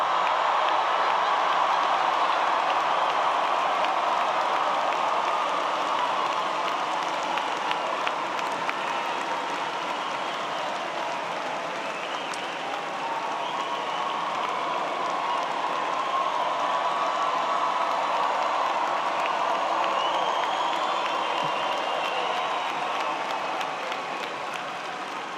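Graduates at a university engineering bachelor's commencement ceremony applaud and cheer in a large hall, a dense, sustained roar of clapping and crowd noise that holds steady throughout.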